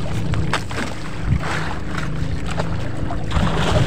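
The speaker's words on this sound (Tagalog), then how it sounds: "Sagada na makina." A fishing boat engine runs flat out at sea during a skipjack tuna chase, a dense steady roar with low rumbling and constant rushing water and wind noise, close and loud throughout without talk.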